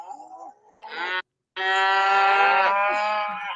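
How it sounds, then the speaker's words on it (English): Cattle on a farm let out long, loud moos close by, one shorter call followed after a brief silence by a sustained, drawn-out bellow that fades at the end. "I hear you, and I hear the cows TP"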